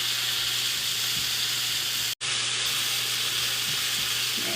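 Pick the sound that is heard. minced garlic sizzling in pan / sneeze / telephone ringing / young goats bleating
minced garlic sizzling in pan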